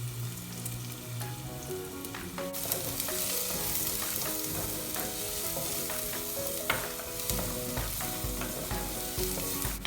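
Chopped garlic and dried curry leaves fry in a pan with a constant close sizzle, broken by stirring scrapes and a sudden louder burst of crackling.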